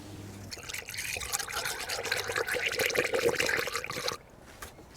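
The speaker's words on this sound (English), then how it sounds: "We're gonna fill it up with coolant until it starts coming out of that bleeder." Coolant pouring through a spill-proof funnel into a 2011-2020 Dodge Grand Caravan cooling system, a steady close liquid gurgle and trickle for about four seconds before stopping.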